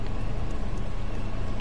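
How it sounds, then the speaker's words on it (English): Tank engine in the video game Prototype, a low, steady rumbling drone with a slight pulsing throb, moderately loud and unbroken. "No, that's a tank. I hear the engine."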